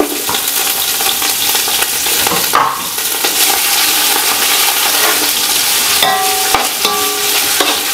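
Onions and green chillies sautéing in a hot pan after spices go in, a continuous loud sizzle with occasional stirring scrapes and clinks of a utensil, no talking.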